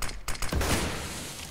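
Gunfire in a CS:GO match on the Cache map as a player tries for a headshot, a short burst of loud shots with a dense, sustained crackle trailing off.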